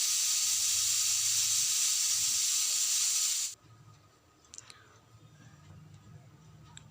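A pressure cooker cooking mixed vegetable curry with green peas vents steam in a loud, sustained hiss for about three and a half seconds, then cuts off sharply into a quiet kitchen.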